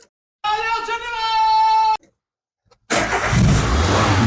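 An old car's starter whirs for about a second and a half after a battery recharge, cuts off, then the engine catches and runs loudly and roughly, close by.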